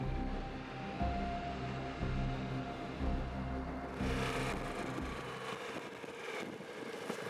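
A Ducati Multistrada V4 S motorcycle's V4 engine idles with a lumpy, uneven rumble, then revs up more loudly partway through, with no voices.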